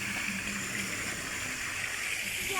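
Steady rush of flowing water at Antalya Dinopark, a continuous broadband gush heard fairly close, with no one speaking over it.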